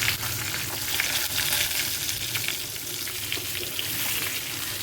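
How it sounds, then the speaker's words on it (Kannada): Brinjal frying in hot oil with cumin, mustard seeds and curry leaves, a continuous close crackling sizzle with a dense, even spatter and faint stirring, no voices. "ಮುಂದಾಗೆ ಬದನೆಕಾಯಿ ಹಾಕ್ತಾಯಿದ್ದೀನಿ"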